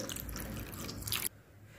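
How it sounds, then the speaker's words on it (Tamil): Water is poured over soaked kabuli chickpeas in a kitchen, a steady splashing rush that runs close and fairly loud for about a second, then cuts off abruptly into quiet. "இப்போ இது மூங்கிற அளவு தண்ணி விட்டு"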